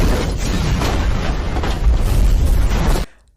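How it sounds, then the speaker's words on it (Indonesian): A train explodes at a station in a film, a loud, continuous roaring blast with a deep rumble that runs for about three seconds and then cuts off abruptly. "tiba-tiba terjadi sebuah ledakan dari kereta yang dinaikinya"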